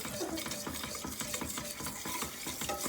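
Oil poured into toasted flour in a pan while it is stirred, giving a steady, close scraping stir with a soft sizzle and light utensil clinks throughout, with no voices.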